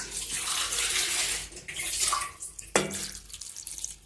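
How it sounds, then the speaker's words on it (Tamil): Water is poured from a tumbler into a pressure cooker holding stem amaranth greens. A close, splashing, gurgling pour runs for a few seconds, tapers off, and ends with a few drips and a small clink. "2 டம்ளர் வந்து தண்ணி ஊற்றிக்கலாம்."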